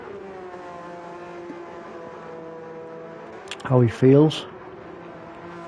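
Racing cars in a video game racing league drone with a steady, layered engine whine throughout, holding at an even pitch, while a commentator briefly talks over it.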